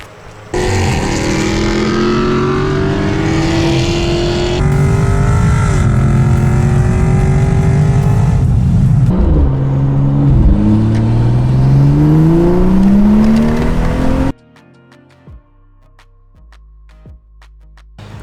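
A 2015 BMW F30 335i xDrive with 8-speed ZF transmission runs loud and close, the engine revving up and down in sweeping tones before cutting off abruptly, leaving quiet clicks.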